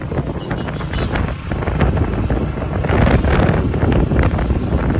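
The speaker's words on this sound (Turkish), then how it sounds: "Rüzgar esiyor." Strong wind buffets the microphone continuously outdoors by a mosque in Lahore, a loud rumbling roar that swells and gusts throughout, with no voices.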